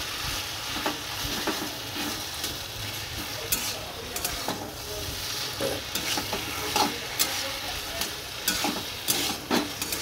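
A hilsa fish head curry with pumpkin and Malabar spinach being stirred in a pan, with steady sizzling and frying and scraping stirring strokes throughout, fairly close and continuous.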